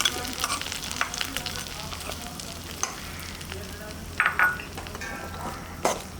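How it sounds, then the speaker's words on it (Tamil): Mustard seed tempering is poured into pirandai chutney, producing a steady close sizzle with scattered sharp crackles and pops over several seconds. "இப்போ நம்ம அரைச்சி வச்சதை அந்த பிரண்டை உள்ளே போட்டு ஒரு தாளிச்சு ஊற்றி எடுத்துடலாம்."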